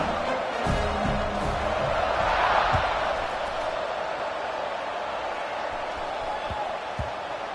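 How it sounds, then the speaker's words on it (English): A stadium crowd in a Madden football video game buzzes steadily after a score, a dense, even roar of murmur that swells briefly and then holds under continuous play-by-play commentary. "this crowd is buzzing after that last score"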